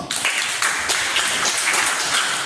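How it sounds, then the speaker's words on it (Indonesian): Classmates clap for a student in a classroom, a dense, steady patter of many hands lasting the whole moment at moderate loudness. "Kasih tepuk tangan untuk Sino"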